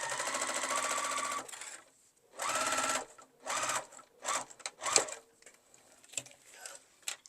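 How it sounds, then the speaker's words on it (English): A sewing machine stitches the back piece onto a small zipper key chain pouch in several loud, close bursts of rapid whirring, broken by pauses and small clicks. "we're going to sew it on as well"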